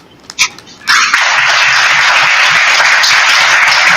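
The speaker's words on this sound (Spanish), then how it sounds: "Un aplauso también para él." After a couple of brief knocks, an academic social work audience bursts into sustained applause. The dense, even clapping stays loud and steady to the end.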